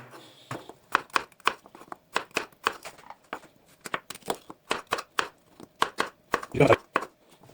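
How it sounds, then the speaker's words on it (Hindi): A knife chops potatoes on a board, about twenty crisp, close chops in a quick, slightly uneven rhythm with brief pauses, heard alone. "तो अब मैं आलू भी काट लेता हूँ।"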